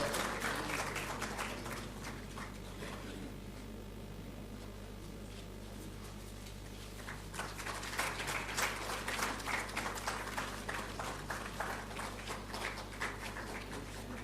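An audience claps loudly and continuously at a national photography awards ceremony as a winner comes up to receive a prize, the applause swelling again after a brief lull.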